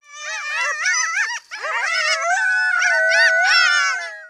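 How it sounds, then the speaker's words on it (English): Coyotes howl and yip near a backyard, several wavering, high-pitched voices rising and falling together in a continuous chorus with a brief break, loud and fairly close. "If you have a small animal and coyotes are nearby, you may have heard them calling near your backyard."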